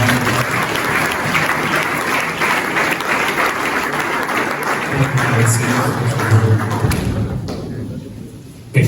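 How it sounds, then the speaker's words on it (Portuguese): Audience at a pastors' round-table meeting giving a round of applause, a full, steady clapping crowd with low thumps and murmuring that fades out abruptly near the end. "uma salva de palmas."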